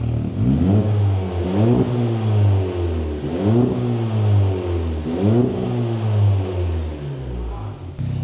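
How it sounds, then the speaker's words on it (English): A Mk4 SEAT Leon FR with a loud, raspy straight-pipe exhaust is revved repeatedly, about five rising blips each falling back to a burbling idle, close by. "Go on, give it some revs."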